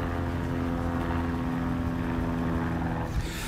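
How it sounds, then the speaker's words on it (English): A steady, loud engine drone with a rumbling low hum from a helicopter circling overhead, continuous throughout. "Do you hear the helicopter?"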